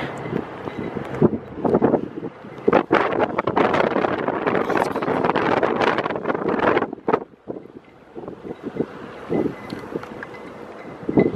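Strong gusty wind blowing outdoors by an old building near an airport, roaring and buffeting directly against the microphone in loud uneven bursts that ease off now and then.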